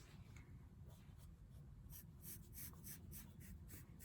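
A pencil scratches across paper as a stapler is sketched as a rounded rectangle, a run of quick faint strokes that gets busier toward the end, alone and without speech.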